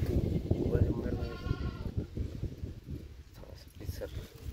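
A goat bleats with a wavering, nasal call, fairly close, under nearby people talking. Soft rustling and shuffling sounds come from the animals in the background.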